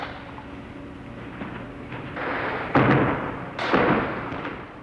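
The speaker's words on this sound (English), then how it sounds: "The clatter of gunfire from the other side, almost swallowed up in the rocks," Distant gunfire echoes through rocky Afghan terrain in archival Soviet-Afghan War footage from 1980, a few muffled bursts and thuds rising over a low background rumble.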